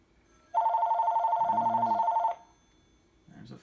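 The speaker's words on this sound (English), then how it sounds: "There's a phone call." An incoming call rings on a telephone, a single steady electronic trill lasting nearly two seconds, loud and close, followed by brief quiet and the start of a voice.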